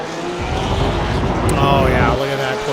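A Porsche race car engine in the game DCS roars loud and close, its pitch rising and falling as it revs, with someone talking over it.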